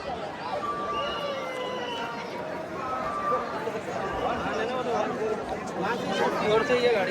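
A dense night crowd murmurs outside the Mahakal temple in Ujjain, a steady babble of many voices with footsteps and movement, continuous and moderately loud throughout.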